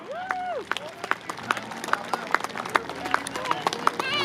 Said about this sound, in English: can we have a round of applause for our World War II?